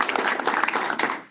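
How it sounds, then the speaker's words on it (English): A room full of people applauding at an energy industry gathering, dense continuous clapping at close range for the whole short stretch. "I think all of us owe Ron a great round of applause for hosting us today"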